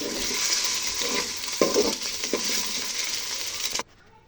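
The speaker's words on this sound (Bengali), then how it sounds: "ডিমগুলো একটু জুসি জুসি করে ভেজে নিব, নরম নরম করে।" Two eggs seasoned with salt and pepper fry softly in a pan for fried rice. A steady close sizzle runs throughout with a few stirring scrapes, then cuts off abruptly near the end.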